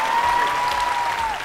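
Wedding guests at a reception clap loudly and continuously while a thin, steady electronic tone rings above the applause.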